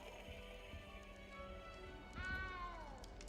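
A cat in a Hogwarts video game gives one short, faint meow near the end over a quiet ambient game background.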